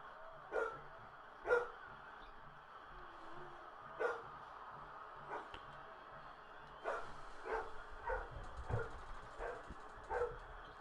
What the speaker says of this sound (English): Here comes this dog barking for no reason again.